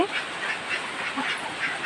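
Ducks in an indoor duck room give a short run of repeated nasal quacks, close and moderately loud, with no talking.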